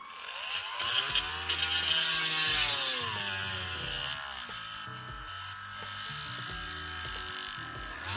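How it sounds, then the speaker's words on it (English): A small power drill whirs steadily, its pitch rising and dipping as it bites into a hard plastic action figure, close up and without talk. "we're gonna drill into this one now"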